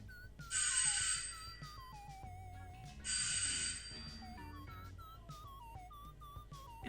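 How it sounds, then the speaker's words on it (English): An old-fashioned doorbell with a bright metallic bell ringing in two separate bursts of rapid clanging, each about a second long, heard close and alone against a quiet background. "I think it's a doorbell."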